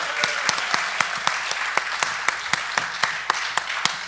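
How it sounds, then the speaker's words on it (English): An audience claps for a couple on a live show, a lively round of applause with sharp individual claps standing out over a dense steady patter, fairly close and continuous throughout. "Give them a nice round of applause."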